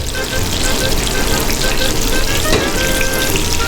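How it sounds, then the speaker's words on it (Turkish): Steady, loud sizzling and crackling of chicken frying in hot oil in a pan, continuous throughout with no pauses. "Ve tavuk kızartmak için tavaya biraz yağ ilave etmemiz lazım."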